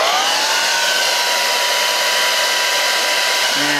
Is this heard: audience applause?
no